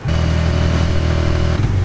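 A crowded motorcycle tricycle carrying seven people rides along a road in the Philippines, its mid-pitched engine droning steadily and loudly, with a brief shift in tone near the end.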